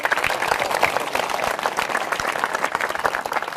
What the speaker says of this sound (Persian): تشویق بفرمایید